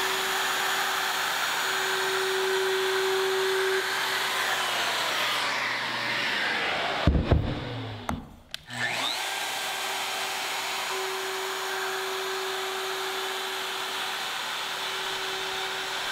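Festool power tool hooked to a dust extractor while building production bookshelves, a loud, steady high-pitched whine that winds down to a short pause, then starts up again and runs evenly, close, with no talking.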